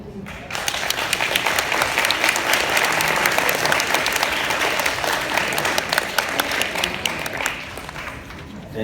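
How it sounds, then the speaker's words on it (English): An audience at Nicole's WCS speech breaks into sustained, dense applause right after she finishes, a steady wash of many hands clapping for about eight seconds before it trails off. "Another round of applause, please."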